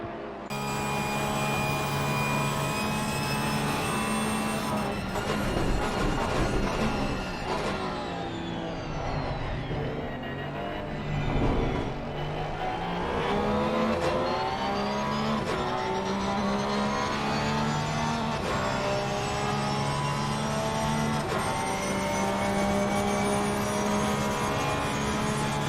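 A Porsche and a Mercedes-AMG GT race car at Monza in Assetto Corsa Competizione, with sustained high-revving engine whine and shifting pitch as the cars run nose to tail, loud and continuous with no talk.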